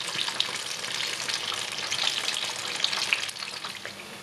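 Hot oil sizzles and crackles steadily as freshly fried banana fritters drain in a metal strainer, a dense close crackle with small pops and no voices.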